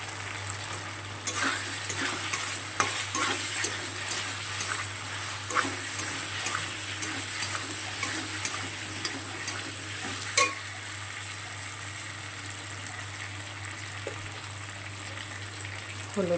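Capsicum fries in spiced masala with a steady close sizzle, while a spoon stirs and scrapes around the pan in repeated strokes. A low hum runs underneath and no one speaks.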